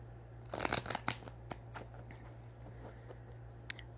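A deck of playing cards is shuffled up close, heard as a quick flurry of crisp riffling snaps followed by scattered lighter flicks and taps in a quiet room.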